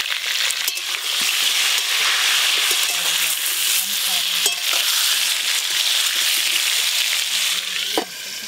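Potatoes frying in a pan with salt and turmeric, crackling and sizzling steadily and loudly at close range, with occasional stirring clatter. Faint voices sit in the background.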